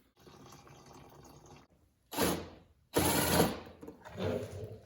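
Fluid draining from a 1987 Kawasaki KX125 motorcycle during radiator and petcock repair, a faint trickle followed by three close splashing gushes of pouring liquid. No one speaks.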